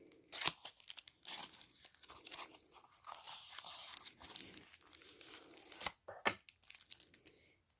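A tarot card deck's packaging is opened up close, with crisp crinkling, tearing and rustling of wrapping in irregular bursts, fairly quiet overall.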